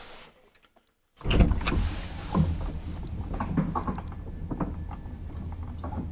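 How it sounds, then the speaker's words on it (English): An old Hissinhuolto traction elevator's machinery hums and rumbles steadily after a brief quiet start, with occasional mechanical clunks and knocks over the drone. "The machinery actually sounds a bit like on the Corny M from the late 90s"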